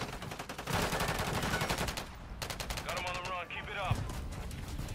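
Bursts of automatic gunfire from Call of Duty: Modern Warfare III multiplayer, rattling volleys near and mid-distance, with a player talking over parts of the shooting.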